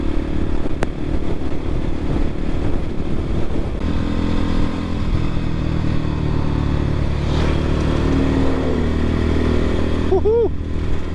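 Dirt bike climbing a paved uphill road on the Apache Trail, its engine droning steadily and loudly close by throughout, with wind buffeting and a brief rising rev near the end.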